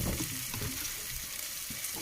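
Spice paste of ground cumin, black pepper, cinnamon and cardamom sizzles steadily in a hot pan while cooking jackfruit curry, with a continuous bright hiss and faint stirring, no voices.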